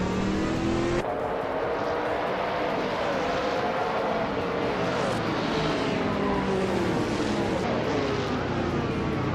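Race cars, including a 1995 Chevrolet Camaro IMSA, launching at the start at Oran Park in a racing video game: loud roaring engines revving and accelerating together, with rising pitch sweeps as the pack pulls away.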